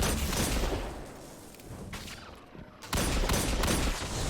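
Loud gunfire and booming blasts from grenades and rockets in the video game Destiny 2 come in dense volleys, then pause briefly before another heavy burst.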